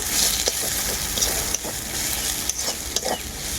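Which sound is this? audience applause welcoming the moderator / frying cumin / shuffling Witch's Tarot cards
frying cumin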